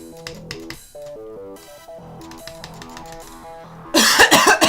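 Loud burst of coughing bursts out at the very end of a streamer's gaming segment, cutting in abruptly after a stretch of background music.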